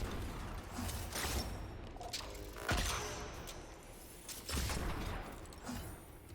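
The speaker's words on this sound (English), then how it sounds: "then use my bow to conserve Arbalest ammo" Weapon fire in Destiny 2 during a Legend Lost Sector, with repeated sharp shots and booms over dense, busy game noise.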